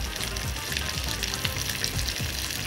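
Onions fry in butter and tomato sauce in a pan, a close, steady sizzle with faint rhythmic stirring scrapes and no talk.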